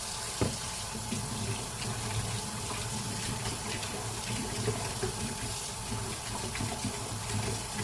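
Running water from a kitchen tap pours steadily as a cooking pot is rinsed in the sink before making a boxed pasta meal, a continuous close gushing with small clinks and splashes.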